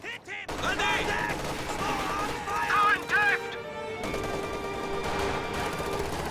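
Bursts of MG34 machine gun fire and other battlefield gunfire in a WWII strategy game, dense and continuous with a short quiet break, layered under an excited commentator's voice.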